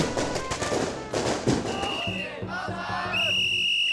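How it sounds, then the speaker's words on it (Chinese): Firecrackers burst in a rapid crackling string at a temple festival in Miaoli, with crowd voices and shouts, then the bangs fade into whistling and ringing tones and lingering noise. "他們自己會準備鞭炮"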